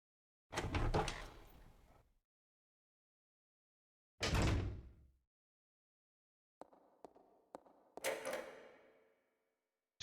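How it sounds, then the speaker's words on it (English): A door unlocking and opening in the video game Resident Evil Zero: sharp mechanical clunks and a heavy swinging thud, then a short series of clicks and a creaking open, each sound separated by silence. "Door is now unlocked"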